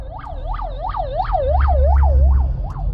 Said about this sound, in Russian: Это скорая.